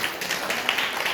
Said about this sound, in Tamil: கைத்தட்டு நல்லா இருக்கும்.